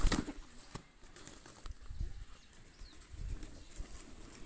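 Pigeon coos and soft wing flaps from a show-quality breeder pigeon, faint and intermittent with scattered low thumps and handling noise, no talking.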